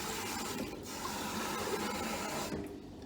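Clean Scottish water poured into a smoothie blender jug, a steady close splashing and gurgling rush lasting about two and a half seconds before tapering off.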